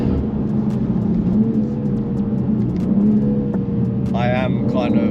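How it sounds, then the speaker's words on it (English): Tuned BMW G87 M2 engine droning steadily as the car accelerates hard in rear-wheel drive, a constant close rumble with a voice talking over it near the end. "I am kind of like provoking the car though, seeing how much I can sort of go with it before it starts to give out on grip."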